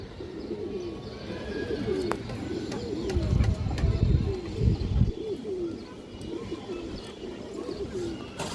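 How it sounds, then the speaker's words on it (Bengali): A China Khaki female pigeon coos repeatedly in soft, rolling phrases close by, with a few brief chirps and some background rustling and handling noise. "চায়না খাকি মাদি কবুতর খুব সুন্দর একটা কবুতর"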